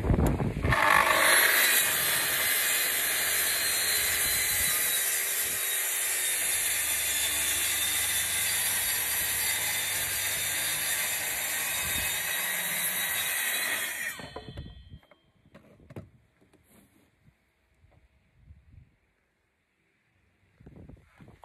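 A plunge saw cuts through an OSB3 roof board on a garden room, set to about 20 mm depth, with a loud, steady high-pitched whine lasting about fourteen seconds before it winds down, followed by a few soft knocks and handling sounds.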